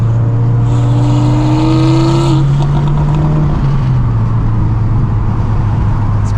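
A VB Subaru WRX engine revs up in a rising, loud drone that climbs for a couple of seconds, then drops off and settles into a steady lower hum nearby.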